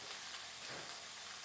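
Potatoes fry in a pan with a loud, continuous sizzle and hiss, close and unbroken, with a brief stirring rustle in the middle and no speech.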